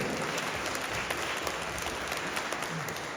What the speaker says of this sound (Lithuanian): Pasitikime aplodismentais